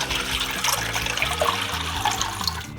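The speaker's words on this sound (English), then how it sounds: "Then we'll add our water. We have 4 cups here." Water pours steadily into a pot of dry penne on a stovetop, a continuous splashing, gurgling stream filling the pot at close range.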